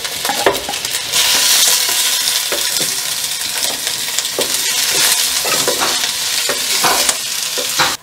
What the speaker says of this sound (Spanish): Aquí la cebollita ya quedó frita.